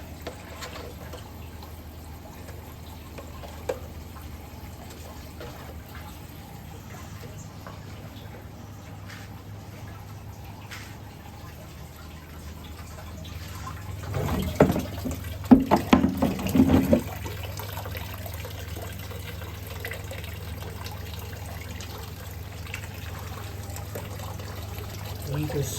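Water flows through a hydroponic pipe system and drains back into a reservoir, a low steady trickle that swells into a louder splashing, gurgling burst midway before settling to a soft continuous flow.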